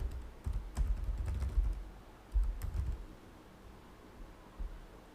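Quiet typing on a computer keyboard in a few short bursts of soft clicking keystrokes, close and alone with a faint background hiss.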